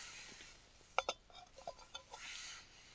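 A metal cooking pot clinks and knocks at a winter tent camp beside a fire, a few sharp close clanks in quick succession followed by softer rattles, faint and without talk.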